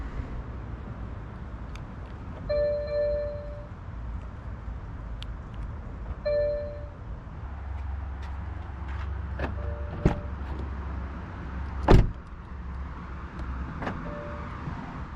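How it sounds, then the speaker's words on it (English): Distinctive electronic chimes from a 2023 Toyota Prius Hybrid unlocking via its door handle touch points, short tonal bursts repeated a few times, with a sharp click near the end over quiet background hum. "when you unlock it using the standard touch points on the door handles, it makes the most unique sound"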